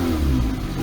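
Peugeot 206 petrol engine running, a steady loud mechanical drone with strong low-end rumble and no voices.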